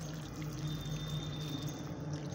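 Water is poured gently and steadily onto the soil of a potted chilli plant, a soft, close, continuous splash with no talk.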